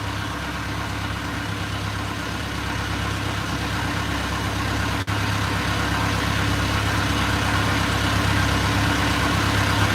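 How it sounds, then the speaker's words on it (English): A boat engine idles steadily at close range, a continuous low rumbling drone with a constant vibration and no breaks, loud throughout. "Yeah, sorry about the engine noise."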